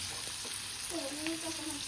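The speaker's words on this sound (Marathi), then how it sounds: "चला फायनली तव्यावर टाकलेलं आहे मटण" Mutton frying on a tava griddle at home, a constant close sizzle running throughout, with a faint brief tone rising partway through.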